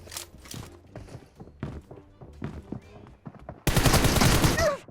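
Gunfire from an online shooter video game, a rapid burst of loud, broadband shots near the end following scattered game thuds and effects, with players talking over the earlier part.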